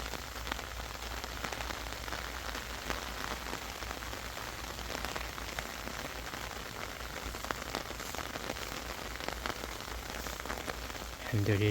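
Heavy, stormy rain falls steadily during a volcanic navel orange harvest. It makes a dense, constant patter and hiss on surfaces, with no clear speech above it.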